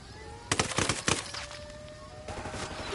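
Gunfire in the video game Ghost Recon Wildlands: sharp bursts of rapid shots in quick clusters, then a later burst, fairly close and punchy against a quiet background hum.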